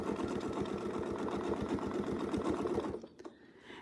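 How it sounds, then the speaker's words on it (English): A sewing machine runs fast and steady, quilting circles along a ruler template in a continuous close stitching rattle, then stops abruptly near the end, leaving quiet handling noise. "So I can just keep sewing my circles around."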